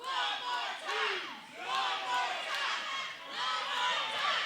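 Wrestling crowd at an indie event chanting in rhythmic waves, loud massed voices rising and falling in repeated phrases, fairly close and filling the room.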